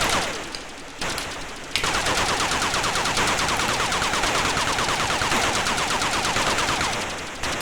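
Loud, continuous rapid-fire helicopter gunfire from the Atari ST game Thunderblade blasts in dense bursts, a harsh mechanical rattle with sweeping tones running under it and brief gaps early on.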